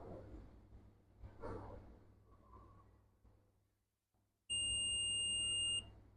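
A multimeter's continuity test on a MacBook Air 13-inch A1466 logic board with a no-power fault gives one loud, steady, high-pitched beep lasting over a second, after quiet handling noise.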